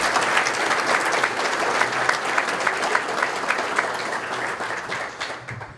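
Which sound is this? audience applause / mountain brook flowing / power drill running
audience applause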